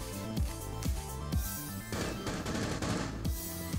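Bursts of gunfire from the Rainbow Six Siege video game in Terrorist Hunt mode come in a rapid, evenly spaced series of shots, fairly quiet in the mix, with no one speaking.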